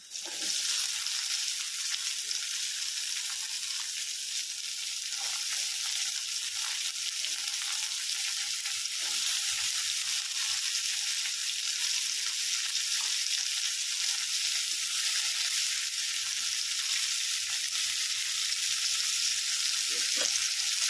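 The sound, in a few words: chopped onion frying with browned garlic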